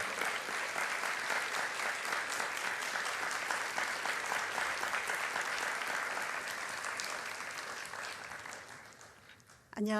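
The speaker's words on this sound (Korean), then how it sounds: "우리 크게 따뜻한 박수로 맞이해 주시면 감사하겠습니다." A church congregation at a Sunday youth worship service gives a long, loud round of warm applause, dense clapping sustained for nearly ten seconds before fading out at the end.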